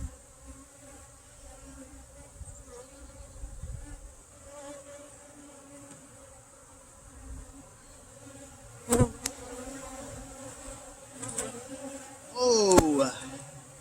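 Honeybees buzz steadily around an open beehive during an inspection and pollen patty feeding, a dense continuous hum with individual bees whining close past, plus a few sharp handling knocks.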